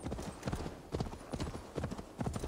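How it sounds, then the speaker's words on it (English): A horse clip-clops at a steady walking pace up a hill road in the video game Assassin's Creed Valhalla. The hoofbeats are close, even and rhythmic, repeating about every half second. "we're gonna take the horse up the hill actually"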